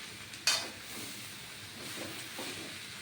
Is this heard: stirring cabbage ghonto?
yes